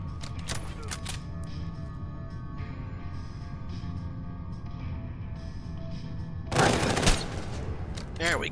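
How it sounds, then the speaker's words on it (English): Automatic gunfire in the Fallout 4 video game comes as a brief, loud burst near the end of the clip, after a stretch of quiet game ambience. A player talks at a low level before the shots. "Was it the automatic gunfire?"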